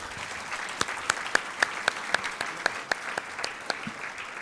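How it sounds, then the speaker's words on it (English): Applause fills a hall at a college graduation ceremony, with scattered sharp individual claps standing out above a softer, steady background of clapping. "One more round of applause."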